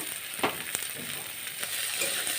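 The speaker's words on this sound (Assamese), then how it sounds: "একেলগে গোটেইখিনি মিক্স কৰি ভাজি ল'ম" Continuous sizzle of chopped onions and green chillies frying in hot oil, with a few sharp crackles and pops, close and steady, no voices.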